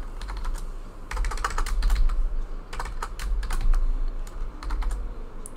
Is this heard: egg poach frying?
no